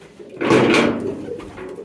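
A pigeon on a farm gives a brief, close coo with a soft flutter, standing alone with no talk over it.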